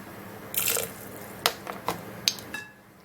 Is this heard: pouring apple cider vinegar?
yes